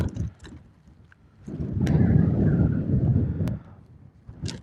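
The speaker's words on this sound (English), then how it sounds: "That wind is starting to pick up now." Gusting wind at Liverpool Airport buffets the microphone in rising and falling roaring surges, loudest in the middle, with some faint background noise between gusts.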